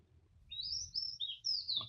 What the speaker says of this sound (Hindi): आप सुन पा रहे होंगे, चिड़ियों की चहचहाट है।